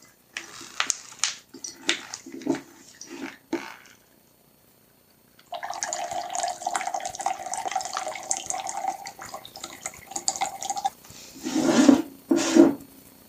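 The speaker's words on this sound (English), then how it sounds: "Screw on to our squeeze water filtration system. The flow will be out through the filter and into this one." Dirty water running through a Sawyer Mini squeeze filter into a container, heard as a steady trickling stream with short splashy bursts before and after a brief silence, close and fairly loud.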